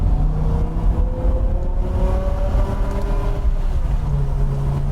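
A 2006 BMW M6 V10 heard from inside while driving, a loud, continuous engine drone with rising harmonic tones as revs climb, then settling lower near the end, with no talk.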